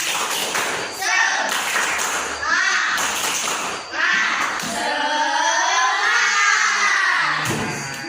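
A class of children chant and clap together in a rhythmic group cheer, loud and close with many voices shouting in unison over bursts of claps.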